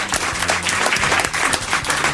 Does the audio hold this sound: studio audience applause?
yes